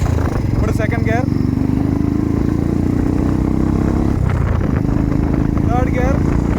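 A loud, close motorcycle engine with a Red Rooster Performance aftermarket exhaust drones steadily in second gear, the pitch dipping briefly partway through, while someone speaks over it in two short bursts.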